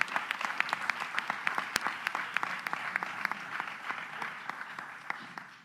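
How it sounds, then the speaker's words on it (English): An audience applauds at a press conference, with steady, dense clapping and sharp individual claps standing out, sustained loudly throughout without speech. "Let's give a special round of applause."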